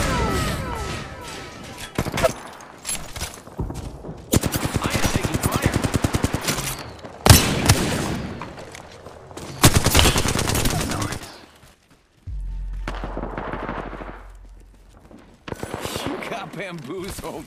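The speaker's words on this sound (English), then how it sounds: "I am taking fire." Gunfire in the video game Apex Legends: loud bursts of rapid automatic fire and single shots, with a heavy low rumble in the middle and dense game sound throughout.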